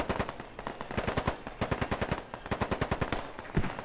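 Rapid automatic gunfire in the military shooter game Squad, with several sustained bursts of quick, evenly spaced shots and brief pauses between them, loud and close, with no voices.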